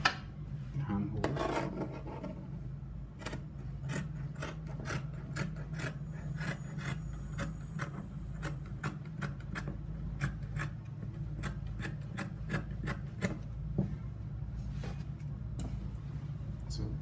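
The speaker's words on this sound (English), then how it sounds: "So now I'm going to cut out the shoulder also, armhole." Scissors cut through fabric along the armhole and shoulder of a senator outfit: a close, steady run of crisp snips and clicks over soft rubbing and rustling of cloth.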